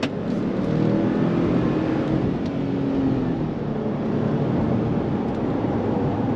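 A 2025 Ford Expedition Active, a rear-wheel-drive full-size SUV, accelerating on throttle, heard as a steady engine and road rumble from inside the cabin, moderately loud and unbroken throughout.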